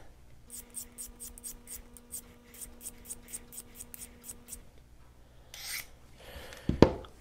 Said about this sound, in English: I wanna see if I can put a working edge back on it with just this regular old work sharp field sharpener here.